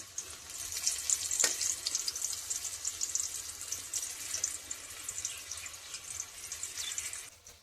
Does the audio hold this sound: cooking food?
yes